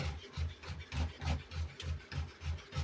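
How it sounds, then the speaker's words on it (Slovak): A knife saws steadily through sausage on a cutting board in a home kitchen, giving a regular rhythm of soft rasping strokes, about four per second, close and clear with no talk. "si môžeme nakrájať tú klobásku"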